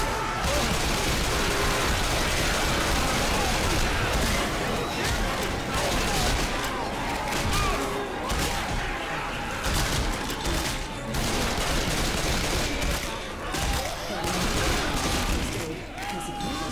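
Sustained gunfire in Left 4 Dead 2 in the sewers, rapid dense shots layered over a loud chaotic din of fighting, close and nearly continuous, with voices shouting underneath.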